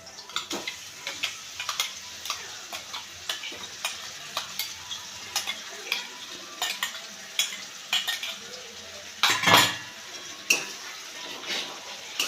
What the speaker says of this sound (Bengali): এবার এটা আমি একটু হালকা বাদামি বাদামি করে ভেজে নেবো